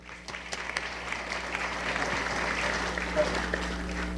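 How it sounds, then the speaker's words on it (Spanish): Audience clapping to welcome a speaker at a digital-technology conference in Peru, a steady, moderately distant wash of applause lasting throughout, with a faint voice or crowd murmur underneath. "Lo recibimos con un aplauso, por favor."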